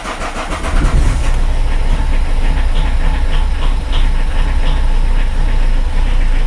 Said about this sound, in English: engine's running rough